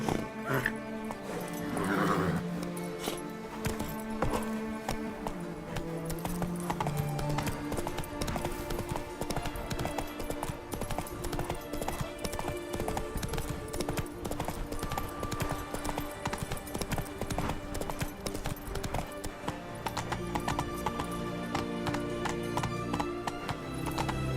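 Horse hooves clip-clop steadily in The Witcher video game, with occasional neighs over a dense layer of game music and ambience that runs throughout.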